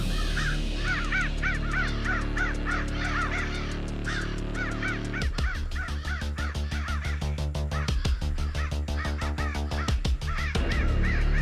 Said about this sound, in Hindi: कौवा बहुत मंडरा है।